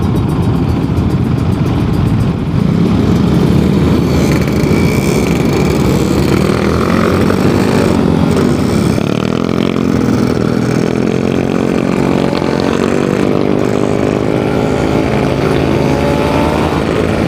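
A two-stroke motorcycle engine runs steadily and close up, its loud buzzing drone rising in pitch as the throttle opens toward the end.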